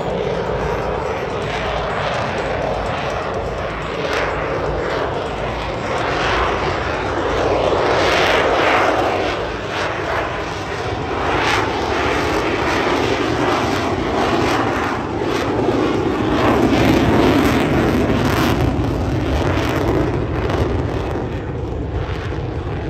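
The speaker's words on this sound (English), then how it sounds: "Hear the throttle going in and out there." A Royal Australian Air Force Lockheed Martin F-35A Lightning II jet roars loudly and continuously through a demo flight, its engine thrust surging and easing as the throttle is worked during a high nose-up pass and turn.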